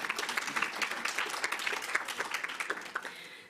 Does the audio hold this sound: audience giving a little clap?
yes